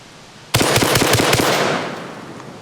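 A Panzer M4 Speed PRO shotgun, a Benelli M4 clone, fires a rapid string of about seven loud, close blasts, its echo trailing off afterward.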